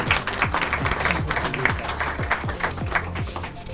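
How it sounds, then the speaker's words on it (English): An audience applauds an award recipient with brisk, continuous clapping that holds a loud, even level over a low steady rhythmic beat underneath. "Can we give him a round of applause, please?"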